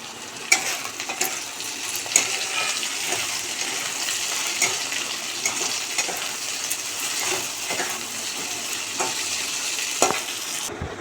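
Chow mein is stirred and fried in a pan, a soft continuous sizzle with intermittent scraping and clinking of the utensil against the metal, fairly quiet and without talk.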